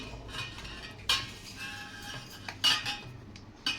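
Metal utensils clink and scrape against a metal vessel as sago pearls are scooped in, with a few sharp separate knocks standing out over a quiet kitchen background.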